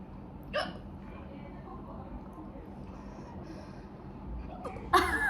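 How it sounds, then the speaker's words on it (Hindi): Two short, sharp hiccups, one near the start and one near the end, from someone who has just eaten an extremely spicy chip, set against quiet room noise. "मेरे तो हिचकी लगती है मेरे साथ।"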